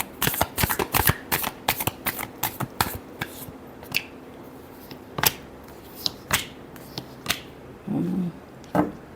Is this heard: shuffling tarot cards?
yes